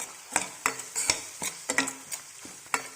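Spoon stirring coriander powder, turmeric, salt, chili powder and pepper into a sizzling garlic curry in a pan, with about eight distinct scraping strokes at an even rhythm, close and moderately loud.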